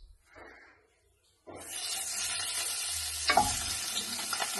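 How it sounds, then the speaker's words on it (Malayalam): Pieces of mutton hit hot oil in a pan and fry with a sudden loud, steady sizzle after a quiet moment, with a stir or scrape partway through; close and continuous, no voices. "ഒരു പാൻ അടുപ്പത്ത് വെച്ചിട്ടുണ്ട് ഞാൻ. അപ്പം അതിലേക്ക് നമുക്ക് ഈ മട്ടന് ഇതിലേക്ക് ഇട്ട് കൊടുക്കാം."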